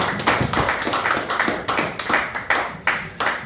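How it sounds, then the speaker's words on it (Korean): Audience applause at a lecture event: uneven, rhythmic clapping from a small group, close and fairly loud, with distinct individual claps standing out rather than a full roar. "우리 감사의 박수를 하겠습니다"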